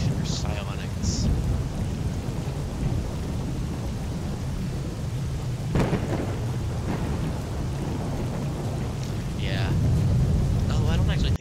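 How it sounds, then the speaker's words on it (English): Heavy rain and rumbling thunder in a video game, a dense continuous downpour with deep rolling thunder swelling toward the end and faint high chirps scattered on top. "Yeah, the rain's really loud."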